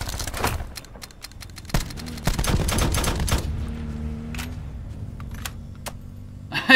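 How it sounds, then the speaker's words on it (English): Rapid bursts of turret gunfire in Call of Duty Blackout, loud close rattling volleys with sharp cracks, then scattered single shots over a low mechanical hum. "I forgot there's a turret."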